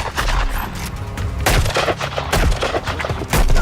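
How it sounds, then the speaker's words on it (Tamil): Gunfire rings out in a dubbed Hollywood western shootout, with rapid bursts and scattered sharp shots that rise and fall across several seconds, loud and continuous over a busy action soundtrack. "விடுங்க சுட்டுக்கிட்டே இருங்க."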